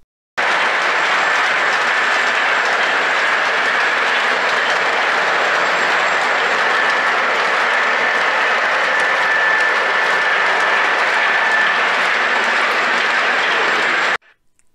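An O gauge model train rolls past steadily with a loud, continuous rumble and clatter of wheels on track, holding constant for the full duration before cutting off.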